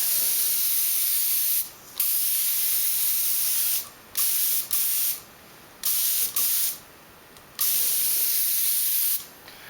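Light coats of spray paint hiss from a can onto Mylar and molds for a composite plane, in about six steady bursts of one to two seconds each, separated by short pauses, close and fairly loud.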